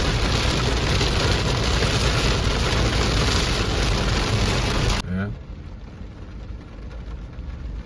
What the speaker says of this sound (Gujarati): એટલો વરસાદ છે બહાર.